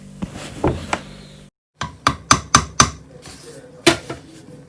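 Chicken and sausage gumbo stirred in a Ninja Foodi pot, with a utensil striking and scraping the pot in a quick series of sharp, close knocks and clanks, then one last louder tap.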